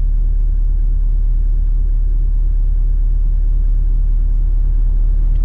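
An oversized truck passes on an outback highway as a steady, heavy, close low rumble that stays loud and even throughout.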